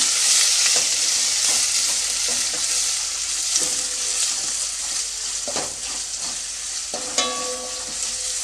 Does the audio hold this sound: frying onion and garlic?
yes